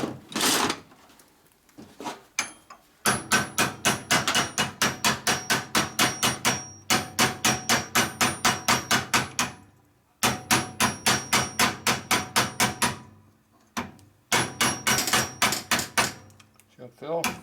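Hammer beating on a 1961 Harley-Davidson panhead engine part held in a vise, close and loud, in long runs of rapid, evenly spaced blows separated by short pauses.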